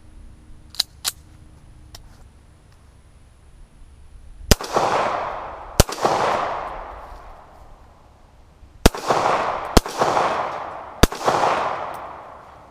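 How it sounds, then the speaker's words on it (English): A Star BM 9mm handgun fires five rounds downrange, sharp loud reports in an irregular sequence, each trailing off in an echoing decay, with a few light clicks beforehand. "So before we get into anything, I'm gonna lob 5 rounds downrange."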